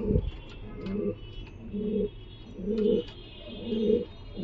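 Giribaz pigeons coo in a steady repeating rhythm of low, throaty bursts, close by, with a faint voice and light background noise underneath.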